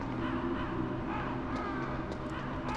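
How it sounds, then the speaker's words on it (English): Birds caw through the steady background ambience of the PS1 video game Metal Gear Solid, with a few faint, brief calls scattered over a dense, continuous wash of game sound. "I hear birds."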